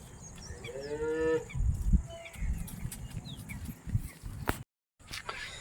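A good-sized brown and white dairy cow gives a single drawn-out, low moo up close, with outdoor farmyard noise and some rustling around it.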